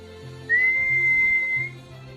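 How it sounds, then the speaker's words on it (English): A single sustained human whistle used as a dog training cue, clear and steady, held for about a second over faint background noise. "I use this whistling technique"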